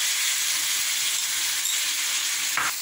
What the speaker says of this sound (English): we will add 2 small tomatoes puree into the fried potatoes. At the same time, we will add our yogurt mixture